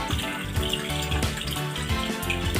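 Fresh fenugreek leaves being washed in water, with a steady rush of running water and splashing sloshing continuously at close range, no voices present.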